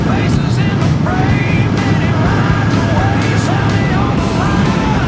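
A retro-style motorcycle engine drones and revs while riding, with loud wind rush throughout and a voice speaking over the noise.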